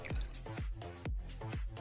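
Water drips or trickles into a glass in a quick run of about five wet, bubbling plinks, close and clear, with no talking.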